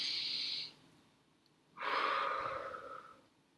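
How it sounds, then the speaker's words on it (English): A single deep breath taken during a children's read-aloud: a long close inhale, a pause, then a fuller, audible exhale fading out, with no talk. "Let's take a big deep breath together."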